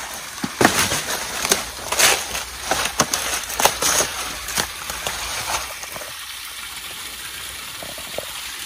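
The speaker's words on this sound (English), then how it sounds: "Yeah, that spring is really going. A little waterfall there." A strong natural spring spills over a small waterfall on rural land, making a loud, continuous, close rush of flowing water with splashy bursts that settles toward the end; nobody talks.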